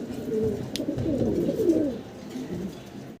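Pigeons at a pigeon farm coo in low, throaty rolling calls close by, a few overlapping bursts that fade toward the end.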